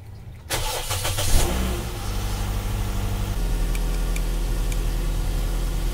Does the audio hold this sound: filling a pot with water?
no